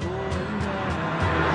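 A vintage Bugatti accelerates hard, its engine roaring loud and close in a continuous rising pull with a faint tire squeal underneath.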